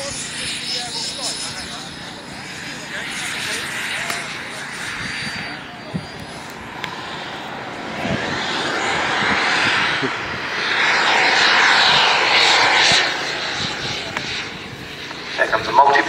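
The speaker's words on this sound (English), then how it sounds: "the engine is just ticking over." A model turbine-powered Fox glider flies with its engine ticking over at low power, a steady airy whine rising and swelling as it passes, with voices talking over it.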